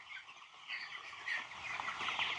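Broiler chickens on a poultry farm, recovering from illness, cluck and chirp continuously in a dense flock chorus, moderately loud and rising slightly toward the end, with no talking.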